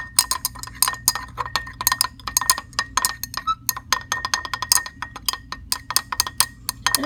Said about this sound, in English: I'm going to come over here and let you watch while I take my stirring rod, and I'm going to gently stir this